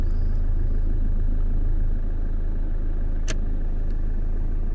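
A 2015 Toyota Hilux G 4x2 manual with a 2.5 turbo diesel D4D engine idles nearby, giving a steady low, even rumble throughout, broken once by a brief sharp click.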